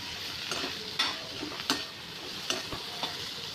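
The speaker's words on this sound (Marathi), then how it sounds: "आत्ता मी कांदा फ्राय करून घेते" Onion frying in a pan for a capsicum and paneer dish, with a soft, low sizzle and several sharp spatula taps and scrapes against the pan, close and quiet with no talk.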